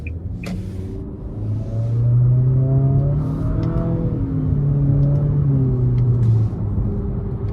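A 2023 Nissan Altima SR VC Turbo with a CVT accelerates in drive, worked through its paddle shifters, heard from inside the cabin as a steady engine drone and rumble. The pitch rises and falls in stepped surges while the car gains speed.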